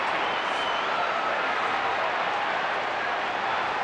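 Baseball crowd at a Colorado Rockies versus Los Angeles Dodgers game roars and applauds after Martin's home run clears the right field wall, a dense, steady wash of distant cheering and clapping.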